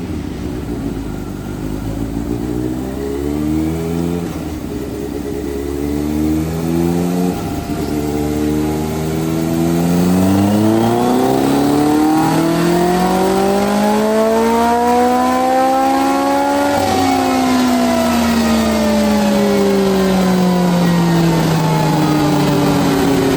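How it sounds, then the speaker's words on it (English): A motorcycle engine revs on a dyno in a motorcycle workshop, loud and close, its pitch climbing in repeated pulls then rising steadily to a high peak before easing off, with no talking. "So stay tuned as we take this thing to the dyno."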